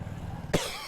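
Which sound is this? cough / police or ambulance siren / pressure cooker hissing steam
cough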